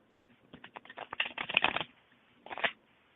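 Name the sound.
shuffling tarot cards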